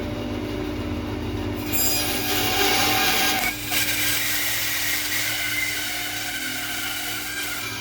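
A bandsaw cutting through a wood log for woodturning, a loud, steady whirring drone with a shrill high whine that shifts as the blade bites, continuous and close with no talk.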